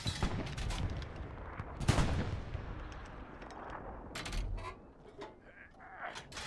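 Artillery fire from a creeping barrage in the World War II shooter Hell Let Loose: repeated sharp gunshots and booming impacts, some close and loud, others duller and farther off, spread irregularly across the clip.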